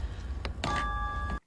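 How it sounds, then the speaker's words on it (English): A phone rings in a scene from the Torchwood episode "Combat": one brief electronic ringing tone that holds steady for under a second, then cuts off abruptly. "Please don't answer that phone."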